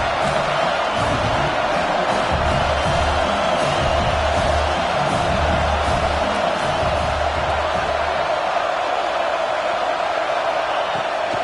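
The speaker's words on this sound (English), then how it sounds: "Third down play in the red zone, and this crowd is at fever pitch." A football stadium crowd roaring steadily during a red-zone play, a dense continuous wall of cheering and shouting that stays loud throughout.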